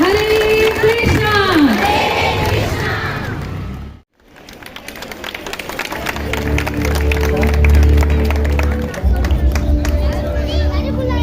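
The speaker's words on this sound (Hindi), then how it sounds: "आप सब तालियों का साथ देके सभी भक्तों का स्वागत।" A crowd at an ISKCON Maha Deepdaan festival in Punjabi Bagh, 2022, claps and cheers with lively hubbub after a spoken announcement, the applause swelling loudly, broken by a brief gap, then continuing under voices.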